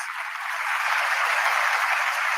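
A rally audience applauds, a dense, even wash of clapping that holds steady and sounds broad and somewhat distant throughout.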